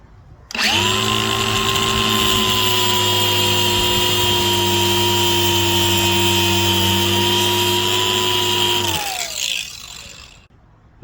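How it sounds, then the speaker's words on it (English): A cutoff wheel slices through braided AN hose in a long, steady high-pitched whine with a tonal grind. It runs loud and unbroken for about eight seconds, then winds down and stops. "use your cutoff wheel to go ahead and cut off a small portion of it"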